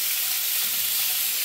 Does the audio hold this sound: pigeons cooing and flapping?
no